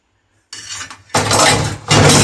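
Dishes, pots and cutlery clatter and clink loudly in a home kitchen during washing up, coming in a few sharp bursts that build into a sustained jangle with no talking.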